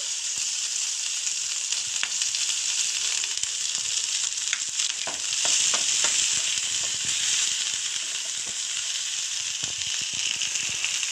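Ginger, garlic and chili paste fries in fish-frying oil with panch phoron, a continuous loud sizzle laced with crackling pops and occasional stirring clinks close by.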